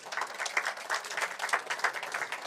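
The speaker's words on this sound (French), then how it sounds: "on va applaudir une première fois notre jury du concours de pitch parce qu'ils ont été top" An audience at a French Tech Day pitch competition applauds the jury, a steady patter of many hands clapping at moderate distance, even and continuous throughout.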